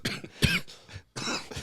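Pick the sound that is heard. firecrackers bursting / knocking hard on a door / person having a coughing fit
person having a coughing fit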